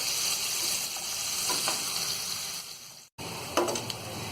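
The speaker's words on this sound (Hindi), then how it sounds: "और प्याज को हम गोल्डन ब्राउन होने तक फ्राई करेंगे।" Chopped onions fry in a pan toward golden brown, giving a steady close sizzle throughout with a brief dropout near the end and a few stirring clatters.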